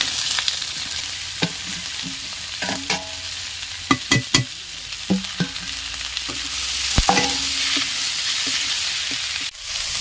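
Onion, chilli, tomato and capsicum fry together in oil in a village kitchen while cauliflower is cooked, giving a steady sizzle with repeated sharp scrapes and knocks of a stirring spoon against the pan, close and clear with no talk.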